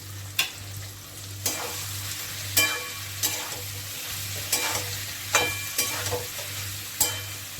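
Squash fries and is stirred in a pan, a low steady sizzle broken by regular sharp scrapes of a spatula against the metal every second or so, close and alone.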